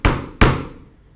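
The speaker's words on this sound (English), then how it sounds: "try and give it a good clean whack of the hammer" A hammer strikes a metal letter punch twice in quick succession to stamp personalised jewellery, giving two sharp, loud, ringing whacks about 0.4 seconds apart that each decay quickly.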